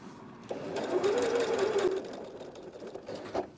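A sewing machine stitches over twill tape in a close, steady whirring run that slows toward the end as it backstitches, ending with a brief mechanical knock.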